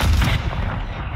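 In Warzone 3.0 Resurgence Quads, a grenade explosion and gunfire hit hard and close, a heavy boom that decays quickly over about a second.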